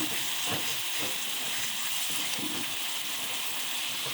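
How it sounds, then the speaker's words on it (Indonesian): Chili and shrimp paste sambal sizzles loudly in a hot pan, a continuous bright frying hiss with faint rhythmic scraping as it is ground and pressed. "Terus kita ulek sambalnya."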